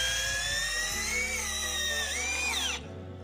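An Edon LV3-1210 cordless drill strains under heavy load, giving a loud, continuous whining motor roar whose pitch wavers and drops before it cuts to a lower hum.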